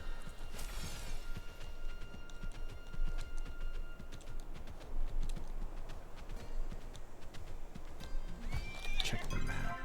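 Horses in the video game Palia whinny and neigh over a steady patter of clip-clopping hooves, with a loud neigh near the start and another near the end, close and continuous throughout.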